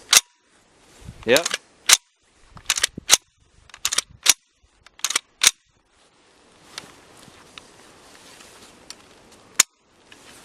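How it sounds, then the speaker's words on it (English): The action of an SKS rifle is racked several times, giving a series of sharp metallic clacks and slides spaced about a second apart, close and loud, with a brief spoken word and some rustling in between. "So I'm just gonna rack it a few times, make sure everything's working right."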